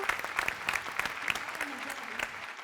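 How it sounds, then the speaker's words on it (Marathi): An audience at a comedy show breaks into clapping, dense and steady applause from many hands that fades slightly toward the end, with a voice faintly underneath. "हडकर आणि कंपनीसाठी एकदा जोरदार टाळ्या झाल्याच पाहिजे"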